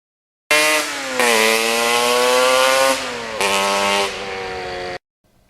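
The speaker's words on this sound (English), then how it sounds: "that sound of being a two-stroke" A 1977 Yamaha RD400 two-stroke motorcycle engine revs hard and close, its buzzy whine rising and falling across a few long pulls before cutting off.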